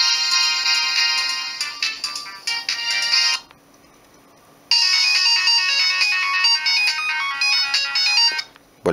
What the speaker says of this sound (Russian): Полифония здесь очень классная, звучит.